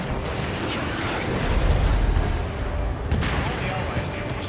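Artillery fire in Ace Combat 7 during an ambush by enemy tanks: a continuous, rumbling barrage of booms and distant blasts, with radio voices talking over the noise.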